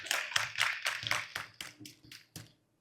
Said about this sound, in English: All right, so let's give Dr.